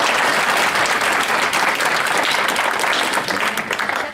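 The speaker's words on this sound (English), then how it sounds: "Ladies and gentlemen, can we please applaud him for the last time?" Dense, sustained audience applause at a Democratic Alliance presidential event at Nkululeko House, a loud steady wash of many hands clapping for about four seconds and tapering slightly at the end.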